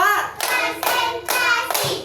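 Children clap their hands in a counting clap game in a classroom, loud, close bursts of clapping repeated in a steady rhythm of separate groups.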